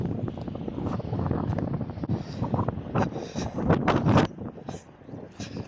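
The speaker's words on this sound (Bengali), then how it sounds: "অনেক সুন্দর বাতাস বইতেছে" Gusty wind buffeting the microphone in uneven rumbling bursts at a farm beside a pond, rising and falling throughout with some faint background noise.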